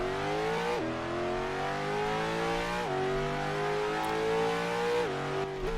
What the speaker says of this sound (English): The exhaust sounds pretty good, especially for this being a V8.